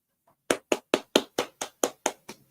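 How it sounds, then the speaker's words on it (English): Nine sharp hand claps in a steady, even rhythm, close and fairly loud, heard alone with no talking, at a live wrestling-show watch stream. "don't know what we're clapping, but we're clapping"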